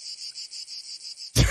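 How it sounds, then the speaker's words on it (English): Cricket chirping sound effect, a steady run of evenly spaced high chirps repeating about five times a second, then cut off abruptly by a loud low-heavy burst of noise at the end. "You guys totally did the cricket sound."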